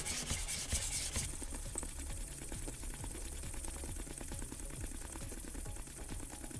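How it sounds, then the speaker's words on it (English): Sanding a Boba Fett left vambrace piece down to fit, a steady abrasive rubbing that runs continuously and fairly close, with a brief louder burst at the start, no talk. "I want to sand this down until it fits."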